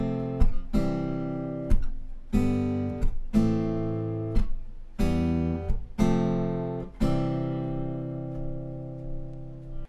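Acoustic guitar strums the verse chord progression of a song, starting on F, with clean, evenly spaced chord strums and short rests that ring out at the end, alone and without talking.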